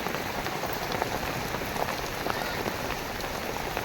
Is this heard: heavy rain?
yes